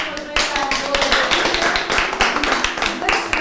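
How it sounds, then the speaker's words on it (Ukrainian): Guests at a modest wedding clap for the newly declared husband and wife, a loud dense burst of many hands clapping close by, sustained for several seconds with a voice faintly underneath. "Давайте оплесками"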